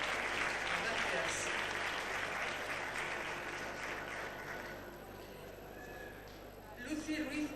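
Sustained clapping from a ceremony audience at the 1997 Fiesta de las Letras in Tomelloso, dense and even, easing off toward the end, with a brief louder rustle at the close.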